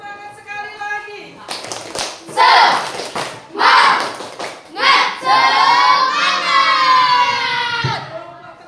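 Children clapping together to cheer a group in an elementary school classroom, bursts of rhythmic hand claps rising and falling over several seconds, mixed with a teacher's voice and excited young voices.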